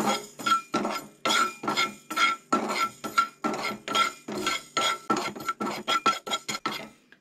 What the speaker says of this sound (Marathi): सो मेथयो न्हय मातशें परतून घेवंक जाय